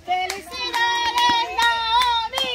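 Hands clap in a quick, uneven patter at a family graduation party for Naomi, mixed with loud, bright voices calling out and cheering close by.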